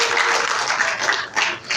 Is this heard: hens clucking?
no